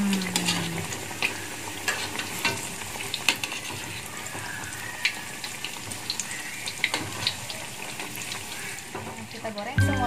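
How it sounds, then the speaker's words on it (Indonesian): Thai-style banana fritters fry in hot oil, giving a continuous crackling sizzle with scattered pops and occasional utensil clinks, a kitchen tap running briefly and a bit of background talk. "Kita goreng semuanya sampai semuanya kecoklatan seperti ini ya."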